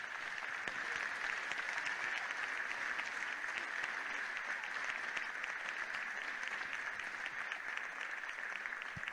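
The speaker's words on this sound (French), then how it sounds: "On peut les applaudir." Dense, steady audience applause fills a hall at the 2018 French Latin dance championship finals, loud and unbroken from start to finish with no voices standing out.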